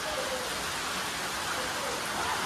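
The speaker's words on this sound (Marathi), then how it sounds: "खूप खूप खूप डेंजर पाऊस आहे." Heavy monsoon rain pours down on a village home during a cold, windy downpour, a dense, continuous roar of drops close by with no break throughout.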